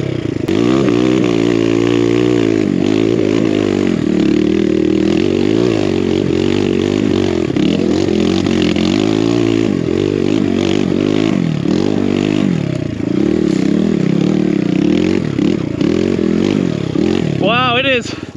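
A BBR KLX170RF dirt bike engine rises and falls in loud, close revs along a dusty enduro trail, throttle surging throughout, with a rider talking over it.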